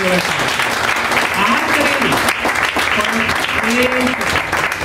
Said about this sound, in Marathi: टाळ्या वाजवा स्वतःसाठी जरा एकदा